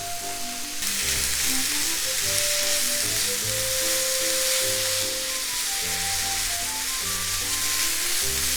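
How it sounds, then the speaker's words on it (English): Beef frying in a pan with onion and ginger added, a steady loud sizzle running throughout, with occasional stirring and no talk. "once the beef is halfway cooked, I'm going to put in the onion and also the ginger."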